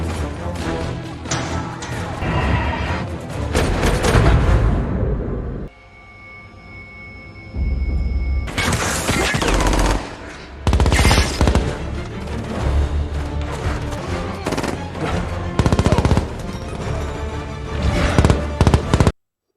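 Gunfire in a Fast & Furious 7 action scene: dense, loud bursts of shots and sharp cracks layered over a film soundtrack, broken by a brief quieter stretch before the barrage resumes with heavy impacts.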